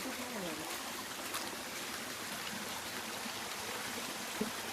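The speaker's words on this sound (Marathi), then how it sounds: "पाण्याचा खलखलाटचा आवाज बघा" A stream near a rain-soaked riverside spot gurgles and trickles steadily, a continuous close wash of flowing water with no talk.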